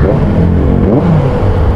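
A motorcycle with a stock exhaust revs up loudly close by, its exhaust note rising and falling over a couple of seconds.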